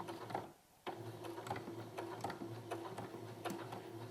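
A sewing machine stitches a quarter-inch seam on a curved quilting strip, running at a slow, steady pace. Its close mechanical whir is punctuated by regular ticking needle strokes, with a brief pause near the start.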